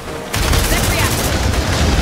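Sentry gun in Aliens: Dark Descent opening up in a sustained, dense burst of rapid automatic fire. It starts abruptly after a brief quiet moment and stays loud and continuous to the end.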